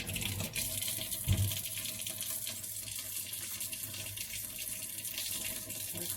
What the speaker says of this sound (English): I have a handful of blueberries. Wash those off.